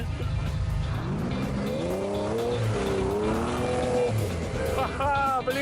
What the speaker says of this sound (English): Wow, he even drifted it.